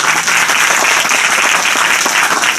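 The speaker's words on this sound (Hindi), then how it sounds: "तो एक बार जोरदार ताली भाई पंकज के लिए हो जाए" Audience at a community event claps loudly and continuously, dense steady applause filling the hall with no voices standing out.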